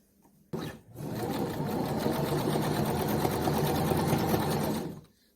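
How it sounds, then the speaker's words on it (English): Domestic sewing machine running a zigzag stitch on stretched fabric for a caftan dress, a steady, continuous close-up whir that starts abruptly and runs for about four seconds before stopping, with no talking. "Now I'm at the sewing machine and I've set it to a zigzag stitch"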